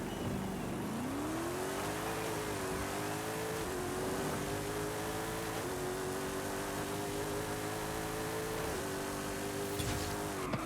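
A 2019 Ginetta G10 RM with a drag tune roars through a half-mile run in Forza Horizon 5, its engine revving hard and climbing through several gear shifts, loud and sustained from start to finish.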